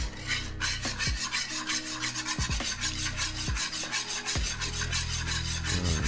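A whisk beats a beer-laced mixture in a bowl, giving a steady, close scraping rasp with repeated strokes, while a low tonal hum carries on underneath.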